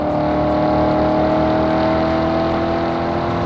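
A Corvette Z06 cruises along Pacific Coast Highway, its engine holding a steady, loud, continuous drone with road and wind roar and no change in pitch, heard on its own without talk.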